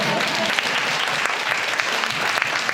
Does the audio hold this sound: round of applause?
yes